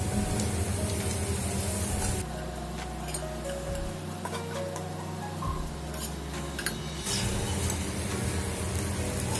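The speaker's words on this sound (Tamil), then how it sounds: "இப்போ இதுல நம்ம ரெடி பண்ணி வச்சிருக்கிற அந்த ஜவ்வரிசியை கொட்டிடலாம்." Soaked sago pearls tipped into a hot tempering for sabudana khichdi, giving a broad steady sizzle with ticks and clatter from the pan, briefly quieter mid-clip before the frying hiss swells again.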